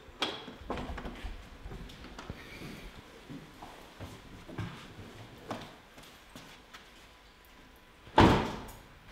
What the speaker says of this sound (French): On saura même fermer les portes.